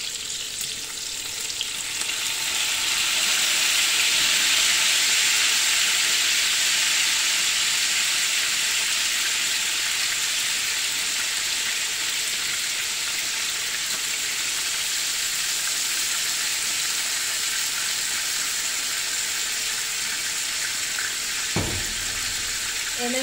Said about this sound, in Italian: E ora vado a sfumare con l'aceto.